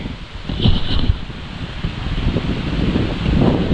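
Strong wind and rain from Typhoon Carina and the southwest monsoon buffet the microphone by rice fields, a loud continuous rumbling roar that swells and eases in gusts.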